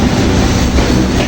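Train pulling into Santahar railway station at speed, a loud, dense rumble of rolling wheels and rattling carriages filling the whole short stretch, close and steady with no voices.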